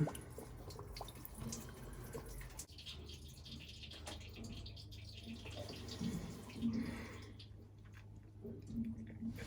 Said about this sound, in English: We're just gonna let that water drain out.